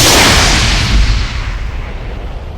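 Cannon fire in a video game, a single loud, close blast with a sharp crack that decays into a rumbling tail.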